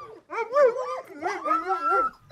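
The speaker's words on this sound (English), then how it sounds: "the dogs that pull the sleds still need attention" Greenland sled dogs whimper and yip in rising, wavering cries, close and fairly loud, several overlapping calls filling a short stretch.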